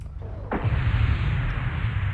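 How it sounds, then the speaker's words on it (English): A volley of three SRM6 short-range missiles launches in MechWarrior Online, a sudden loud burst of rushing, roaring exhaust that starts sharply and then sustains as a dense, continuous whoosh. "Here's 3 SRM6s firing"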